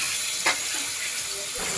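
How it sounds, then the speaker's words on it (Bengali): Chicken sizzles and fries in a hot pan, a steady loud hiss with a brief burst of spattering near the start and soft stirring sounds. "চিকেনটা দিয়ে কিছুক্ষণ একটু ভাজা ভাজা করে নেব"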